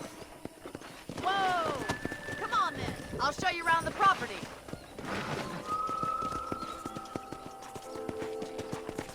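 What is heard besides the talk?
horse hooves in Red Dead Redemption video game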